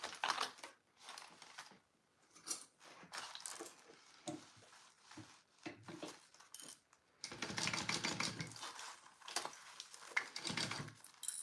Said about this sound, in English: So now I'm going to baste this zipper on.